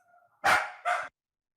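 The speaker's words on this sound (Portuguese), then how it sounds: "Só porque o cachorro tá latindo." A dog barks twice in quick succession, close and fairly loud, the first bark longer than the second, with a faint tonal sound just before.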